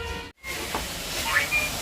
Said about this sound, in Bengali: এই যে এখানে শাক ভাজাটা হচ্ছে প্রায় হয়েই এসেছে